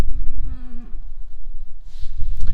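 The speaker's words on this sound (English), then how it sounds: "there's a couple of cows running this way" Cattle on a farm let out a drawn-out moo near the start while running, followed by lower grunting calls and rustling movement in the open air, with no talk.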